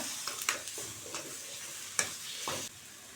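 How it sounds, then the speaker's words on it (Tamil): Chilli powder and coriander masala sautéing in hot oil, stirred with a spoon: a steady soft sizzle with several brief scraping strokes, close and fairly quiet, with no talking. "மசாலாலாம் சேர்த்து நல்லா இந்த ஆயிலே வதக்கி விட்டுக்கோங்க."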